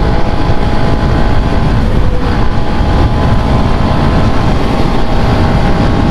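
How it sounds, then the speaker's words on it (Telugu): A Hero Xtreme 125R 125cc motorcycle ridden fast on the road, a loud, continuous roar of engine and wind rushing past a close microphone, steady throughout with no clear voices. "బండి పవర్ మాత్రం చాలా ఫాస్ట్గా అందుకుంటుంది, మీరు చూస్తున్నారు కదా, చాలా ఫాస్ట్గా పవర్ని పికప్ చేస్తుంది."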